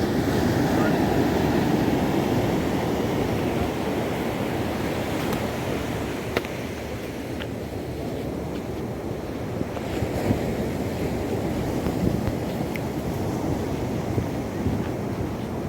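Surf rolls onto a beach in a continuous heavy wash, with wind buffeting the microphone and loud crashing waves that ease slightly midway.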